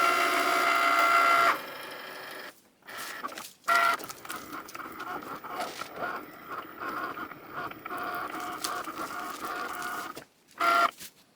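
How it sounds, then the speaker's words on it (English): A Cricut Maker cutting machine works through a sheet of yellow cellophane, giving a steady mechanical whir with tonal motor whine, broken by short pauses and brief bursts as the carriage moves and stops. "if I click on the Cricut button, it's going to go, remember, it's going to cut out the same shape"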